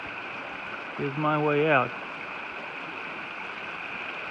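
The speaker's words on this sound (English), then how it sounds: "I was not expecting this much water from that old spring up there." A steady stream of spring water runs down a small drainage in a snowy, off-trail stretch of Bankhead National Forest in Alabama, a constant nearby rushing wash that continues under a brief spoken phrase.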